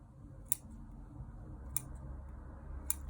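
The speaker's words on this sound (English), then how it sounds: "We can still cut off some roots." Three sharp, isolated snips spaced about a second apart as roots of a Lawson cypress bonsai are trimmed during repotting, each cut crisp and close over a low, steady background rumble.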